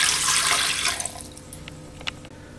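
Water pours briefly into a stainless six-quart Power Pressure Cooker XL inner pot, a loud steady splashing rush that tapers off into a few drips and small clinks.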